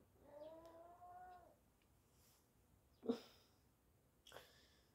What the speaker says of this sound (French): c'est le chat qui fait des bruits